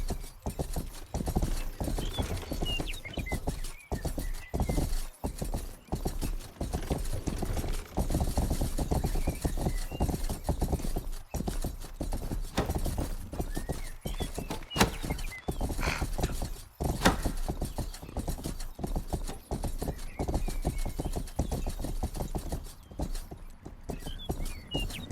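Horse hooves clip-clop steadily in the Western video game Rustler, a continuous rhythmic patter of footfalls over a busy game soundscape, with an occasional faint whinny and no talking.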